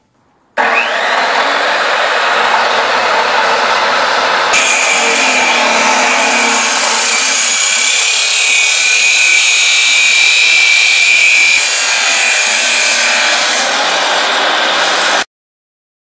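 Power saw cutting metal pieces for a welded loft bed: a loud, sustained high whine and grinding roar that starts abruptly, shifts pitch partway through, runs about fifteen seconds and stops sharply, close and without talk.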